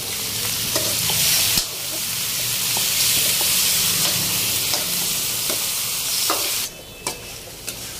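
Chicken sautés and browns in a hot pan for a home-style chicken with sarsa, producing a loud, steady close sizzle with scattered utensil scrapes and a brief clatter near the end.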